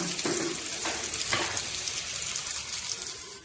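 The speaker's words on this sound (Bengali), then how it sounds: "পেঁয়াজ, এটা ফ্রাই হতে থাকে।" Onion frying in a pan for a puthi fish curry gives a loud, continuous, close hiss and crackle with a few brief stirring scrapes near the start, steady throughout.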